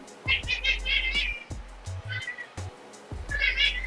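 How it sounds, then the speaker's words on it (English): A house cat meows loudly and repeatedly up close, with drawn-out, wavering cries in several bursts and a low hum running underneath. "My cat is meowing."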